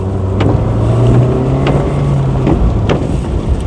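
Steady four-cylinder engine drone from a Hyundai Amica CDX with an automatic gearbox, heard from inside while driving, a continuous loud hum and road rush with a few faint clicks.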